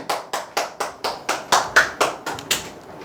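Small group claps in unison about a dozen times, evenly spaced and crisp, close by in a quiet indoor room with no talking.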